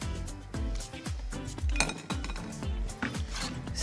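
A metal spoon knocks and scrapes against a pot while pineapple is stirred into it, a regular series of soft clinks close by in a quiet kitchen.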